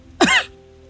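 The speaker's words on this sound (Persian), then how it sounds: "صدای سرفه آمد" A single sharp cough, close and loud, stands out against a faint steady background hum.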